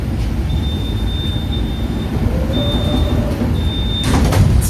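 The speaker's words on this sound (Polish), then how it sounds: "Zobaczcie, najkrótsza linia tramwajowa w Polsce." A tram on the shortest tram line in Poland rumbles along with a steady low drone and thin whistling tones, ending in a louder clatter and squeal as it draws near, fairly loud with no talking.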